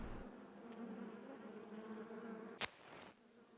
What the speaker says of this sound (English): Just chill these bees out. The bees are calming down.